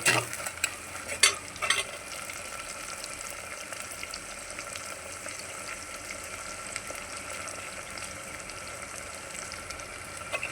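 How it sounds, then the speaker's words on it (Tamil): Sliced onions and curry leaves fry in hot oil, a continuous crackling sizzle close up, with a few clattering stirs early on and then an even hiss throughout. "வெங்காயம் நல்லா வதங்கிடுச்சு பாருங்கள்."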